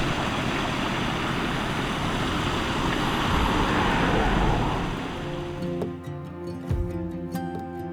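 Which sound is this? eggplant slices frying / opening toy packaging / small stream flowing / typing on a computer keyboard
small stream flowing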